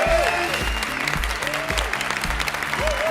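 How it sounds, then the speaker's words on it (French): Audience at a French comedy show applauding, a steady dense clapping from a crowd, with a host's amplified voice announcing over it. "On commence à applaudir, allez-y."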